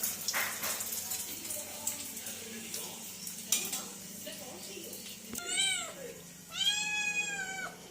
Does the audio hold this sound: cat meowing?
yes